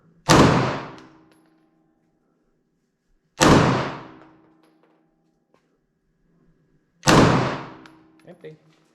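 Three loud gunshots at an indoor shooting range in Riga, each a sharp close blast with a decaying ring, spaced about three and a half seconds apart, with a faint clatter after the last.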